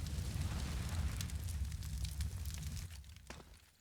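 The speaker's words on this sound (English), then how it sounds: "Incendiary to the top side." An incendiary grenade burns during a Counter-Strike match on the Cobblestone map, a steady low roaring crackle that fades toward the end.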